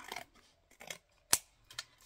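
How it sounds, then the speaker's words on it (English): Scissors trimming the overhanging edge of a card panel: a few soft, close snips and rustles, with one sharper crisp cut standing out in the middle, all quiet and isolated. "trim it off a pair of scissors"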